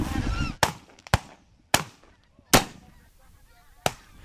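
Wild geese honking at a goose shoot, a few loud cries early, then sharp gunshot-like bursts from a muzzleloader and other shotguns spaced across the clip with quiet gaps between.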